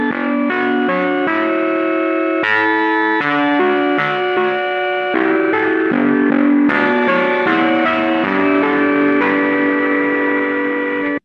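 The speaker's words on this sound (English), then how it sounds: "here I'm just automating the reverb to go up." Electronic track playing with its reverb automated to rise, so layered synth tones grow washier and more echoing, loud and continuous, ending abruptly, with no talk.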